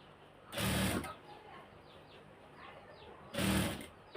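A sewing machine stitches a dress along a guide in two short, loud bursts of running, with near-quiet pauses between them.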